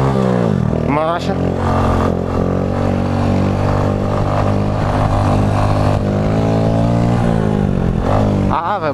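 A Honda Pop 110 motorcycle fitted with a new aftermarket exhaust runs close by with a loud, steady engine drone that shifts pitch, rising and falling as it revs, continuous through the whole stretch.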